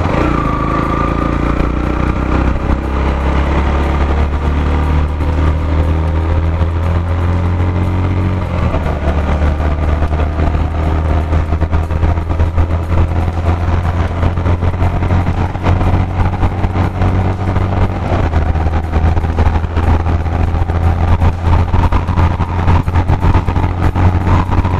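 A Yamaha FZ-X motorcycle engine running under load during a test ride, a steady, loud, continuous drone with pitch shifts as revs climb, with wind and road rumble throughout.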